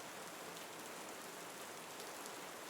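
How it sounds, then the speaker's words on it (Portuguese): Soft rain falls in a steady, even hiss, faint and distant with no distinct drops standing out and no voices. "A chuva é um som suave e relaxante"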